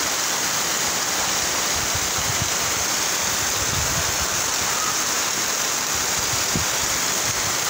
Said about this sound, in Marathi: हे पहा पावसाचं किती जोरदार